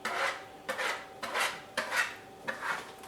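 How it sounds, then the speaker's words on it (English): Pimento cheese mixture stirred in a bowl with a utensil, giving five rhythmic scraping, rubbing strokes against the bowl, close and clear with no talking. "we're just going to keep stirring that up for a little bit, let it get good and mixed up"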